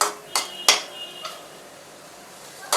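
Capsicum and other vegetables being sautéed in a pan for chicken fried rice: a few sharp metallic clinks and scrapes of a spoon against the pan stand out over a faint steady sizzle, with no one talking.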